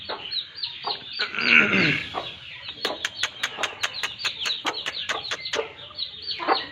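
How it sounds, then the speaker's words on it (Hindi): A newly hatched aseel chick with other pure Mianwali aseel chickens nearby, a run of close, high, evenly spaced peeps after some louder clucking and rustling, with no talking. "ये है छोटा सा नन्हा सा चूजा"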